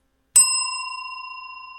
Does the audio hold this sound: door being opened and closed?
no